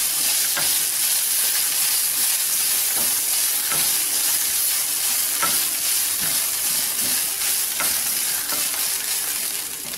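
Grated coconut and chillies fry in a pan, giving a continuous bright sizzle with regular scraping taps from a spoon stirring the mixture, close and steady throughout.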